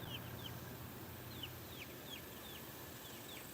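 A small backyard flock of chickens clucks in the evening: a series of soft, fairly distant clucks and chirpy calls repeats at an irregular pace over a low, steady background hum.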